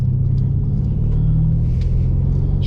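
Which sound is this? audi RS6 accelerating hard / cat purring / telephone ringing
audi RS6 accelerating hard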